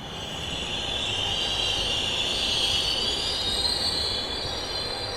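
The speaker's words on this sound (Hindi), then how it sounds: "ट्रेन रुकी।" Train wheels squeal steadily as a train pulls into a station and comes to a halt, a continuous high metallic screech over rumbling carriages, loud and close with no voices.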